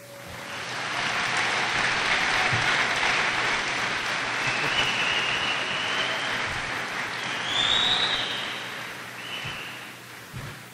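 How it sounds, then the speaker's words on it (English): A standing audience at a 2017 Centralia High School graduation applauds parents, guardians and teachers, a sustained crowd of clapping that swells, holds for about ten seconds and begins to fade, with faint higher cheers near the end. "If you could stand and give a round of applause to your parents, guardians, and teachers,"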